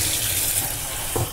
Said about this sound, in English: try to run the water for a few seconds